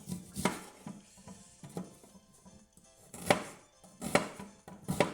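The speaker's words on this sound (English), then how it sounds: "Get my onion cut up, you know." An onion chopped with a knife on a board while making Jamaican coconut dumplings, with sharp, irregular knife thuds in small clusters, close and fairly loud against a quiet kitchen.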